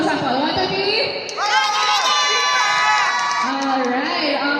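An audience at a Love Live cosplay fashion show at Pinoy Otaku Festival 2025 cheers, screams and whoops loudly in sustained, overlapping shouts that swell midway and continue to the end.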